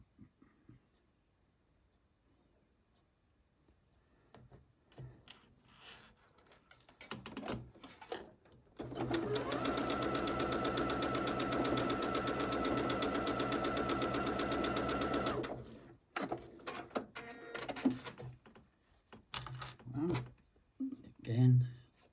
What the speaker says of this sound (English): and sew the middle section on.